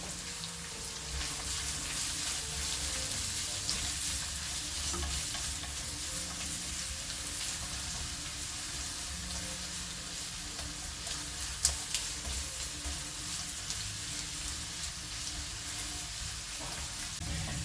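Shrimp noodle ingredients with leeks stir-fried in a hot pan, giving a steady, continuous sizzle with scraping stirs throughout and one brief sharp clink near the end, no talk.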